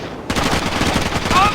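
Rapid gunfire in the Rainbow Six 3 tactical shooter game, a dense burst of overlapping shots starting abruptly and continuing loud and close, with faint voices mixed in.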